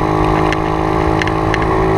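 Peugeot 103 pitbike, a cross-style small moped, revving steadily while being ridden, with a loud, continuous buzzing two-stroke drone and no pauses.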